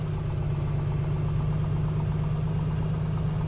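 A Piper Comanche 250 engine idles steadily in Microsoft Flight Simulator, a low droning hum with an even throb, constant and unbroken with no talking.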